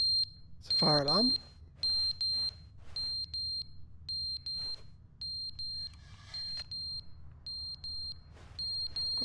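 High-pitched fire alarm beeping in the video game The Stanley Parable, loud evenly spaced electronic bursts repeating steadily throughout, with a brief voice sound near the start.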